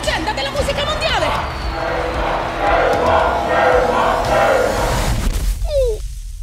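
An animated crowd roars and cheers for a new music legend, a broad, sustained swell of voices that fills most of the stretch before cutting off abruptly near the end.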